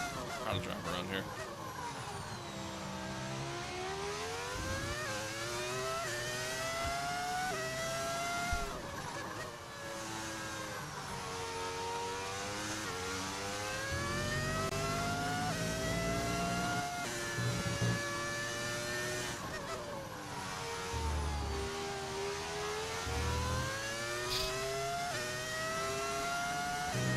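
F1 racing car engine in the video game F1 25, a high-pitched screaming engine rising and falling through gear shifts and braking over a lap, loud and continuous, with someone talking over it.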